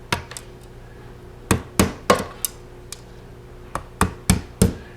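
A small nail is tapped to poke rivets through the wire holes of a 2017 freeze dryer rack, giving sharp metallic taps in small clusters with brief pauses, close and fairly loud.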